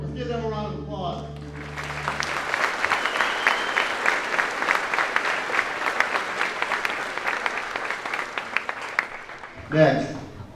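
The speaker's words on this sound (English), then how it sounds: "Let's give them a round of applause." After a brief voice at the start, a general assembly audience breaks into full applause, the dense clapping building and holding for several seconds before fading as a speaker resumes near the end.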